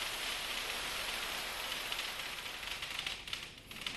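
Pearls poured onto a surface for an artificial hailstorm make a dense, hissing patter of countless tiny impacts, steady and fairly faint, thinning slightly near the end.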